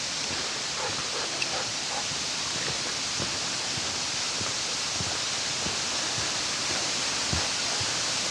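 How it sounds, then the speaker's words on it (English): A waterfall near a forest trail, a steady broadband rush of falling water heard from a moderate distance, with faint rustling underneath and no voices. "I hear water falling"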